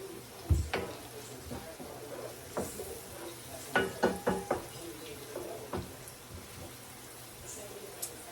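A pan cooking with a few shakes of red pepper flakes gives a soft sizzle under a run of sharp clinks and taps from stirring, close by, clustered mid-clip, with no talk.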